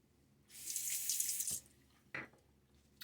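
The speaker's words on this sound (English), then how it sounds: "And a quick splash of water." Tap water runs into a sink for about a second while shaving with a Gillette Nacet blade, then a brief splash follows. Both sounds are close and quiet, with no talking.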